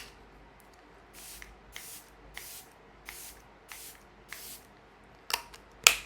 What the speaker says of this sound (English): the next thing I'm going to do is I'll go in with my setting spray.